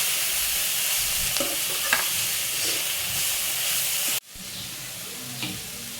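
Dill greens frying in oil for a field bean and dill stir-fry, a loud continuous close sizzle with occasional stirring clicks, cutting off sharply and resuming quieter.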